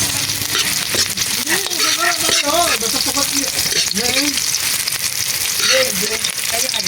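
Garlic and onion sautéing in a pan, a loud steady sizzle close by with a voice talking over it throughout.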